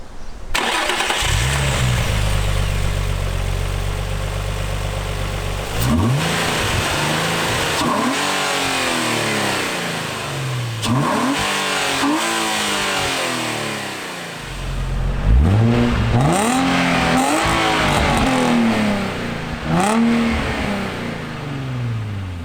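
A Nissan 350Z Roadster engine with an aftermarket exhaust cranks and starts, settles into a deep idle, then revs repeatedly in sharp rising bursts with a loud, growling exhaust.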